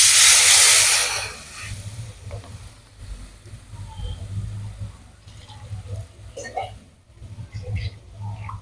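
Mustard paste hits a hot pan with a loud burst of sizzling hiss in the first second, then fades to a quieter simmer while someone talks.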